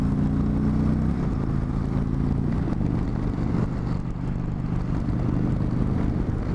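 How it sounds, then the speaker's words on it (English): A 2019 Indian Chieftain Dark Horse motorcycle accelerating hard from a stop, a loud, steady engine drone that rises in pitch as it pulls away, heard up close from the rider's position. "I could tell this motorcycle really does jump off the line much faster"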